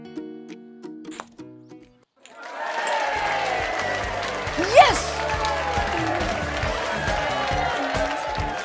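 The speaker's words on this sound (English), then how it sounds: "Did I hear some cheering from you?" Children cheer and clap as a group after a quieter spoken opening, a sustained noisy crowd roar with one voice rising in a sharp squeal in the middle.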